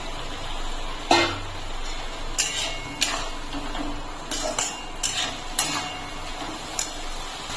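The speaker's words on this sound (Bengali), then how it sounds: "এখন আমি দিয়ে দিচ্ছি ভেজে রাখা আলু।" Fried potatoes tip into a pan of simmering pulao base and get stirred, making a series of sharp metallic clinks and scrapes of a spoon against the pan, spaced irregularly over a quiet background.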